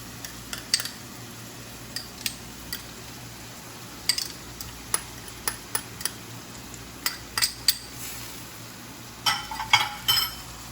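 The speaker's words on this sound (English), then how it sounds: "Let's get all the garlic into there." Garlic stirred in a pan for dill risotto, a faint sizzle beneath irregular sharp clinks and scrapes of a utensil against the metal pan, closely heard.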